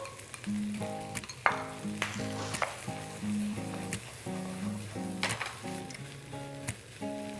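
Day-old cold jasmine rice tossed with sauce in a hot pan for basil fried rice sizzles and crackles, with rhythmic scraping strokes of a spatula and bursts of spitting, close up and without talk.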